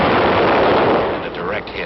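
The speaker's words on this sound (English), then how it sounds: "The 75 recoilless rifle" A 75 mm recoilless rifle fires in Korean War era footage. Thick, rumbling blast noise runs through the whole short stretch, and a voice is faintly audible near the end.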